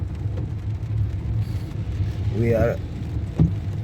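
A car drives through heavy rainfall on the Eastern Main Road in Port of Spain, Trinidad, with a steady wash of road and rain noise throughout and a voice speaking over it.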